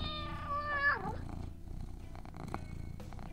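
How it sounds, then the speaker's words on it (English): A black cat makes a short vocal sound with rising and falling harmonics at the start, then fades into a low, steady rumbling purr that carries on alone at close range. "He looked down to find a black-as-night cat slinking around in between his calves."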